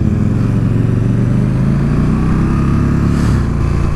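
Loud, close motorcycle engine at a race track, a steady rough droning roar that continues without a break.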